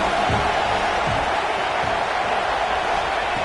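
Dense roaring crowd at a football stadium, a loud continuous wash of cheering and shouting that fills the whole span with no breaks.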